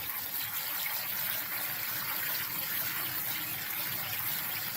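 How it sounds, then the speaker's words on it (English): Cold tap water gushing steadily over cooked pasta in a kitchen strainer, a continuous loud hissing splash with no pauses and no voices. "run cold water over it."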